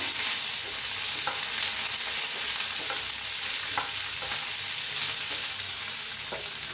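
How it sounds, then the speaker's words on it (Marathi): Curry leaves and fresh mint roasting in a hot pan while a spoon stirs them, steady close-up sizzling and frying crackle with light scraping strokes throughout, no voices. "कढीपत्ता मी टाकूया पुदिना घेतला एकदम ताजा त्याला मी हलवून घेऊया"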